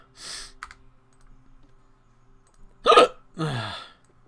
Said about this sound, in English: These are real hiccups.